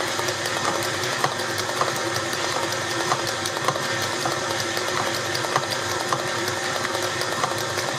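Electric mixer beating cheesecake batter for a New York strawberry cheesecake, a steady close whirring with faint rattling from the bowl that runs without a break for the whole stretch, with no talk over it.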